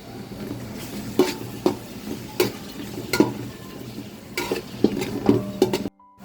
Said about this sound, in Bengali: তেল আর পেঁয়াজ দিলাম, তেজপাতা দিলাম